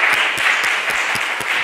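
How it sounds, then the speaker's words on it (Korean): A church congregation claps together to welcome a newcomer during a Sunday worship service in Detmold, a dense, steady wash of applause filling the room without any talking. "자리 잠깐 일어나주시면 박수로 같이 한번 환영하겠습니다"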